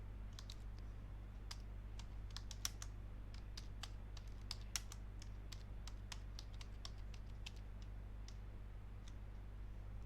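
Computer keyboard typing at a desk, a quick irregular run of light key clicks over a steady low hum, faint and close with no speech.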